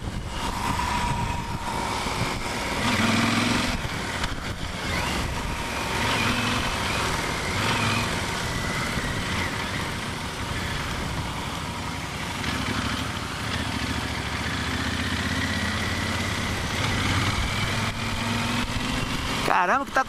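A Yamaha Super Ténéré 1200 motorcycle engine drones steadily throughout, revving and rising in pitch at times, with rushing wind noise over it.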